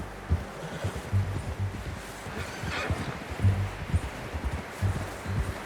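Horse hooves clip-clop at a steady walking rhythm in Red Dead Redemption 2, close and moderately loud over rustling outdoor ambience.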